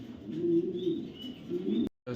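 A young male racing pigeon, silver grizzle, coos close by in low, throaty rolling notes, cut off briefly by a click near the end.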